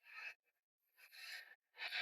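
Light hand sanding on the edges of bathroom veneer after the veneer was pulled off, three short rasping strokes with quiet gaps between, close and faint.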